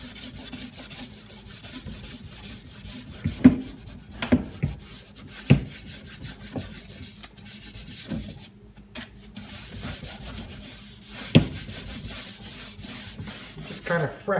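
A cloth rubs and wipes stain off the surface of an antique Singer sewing machine, with soft scraping strokes punctuated by occasional sharp knocks and taps, close and moderately loud, without speech.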